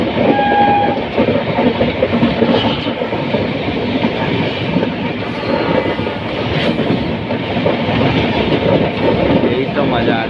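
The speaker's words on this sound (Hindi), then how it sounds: "यही तो मज़ा आता है ट्रेन जर्नी।" Train rolling along the rails on a journey from Durg to Kalyan, a steady loud rumble with rattling carriage noise throughout, and faint chatter from passengers mixed in.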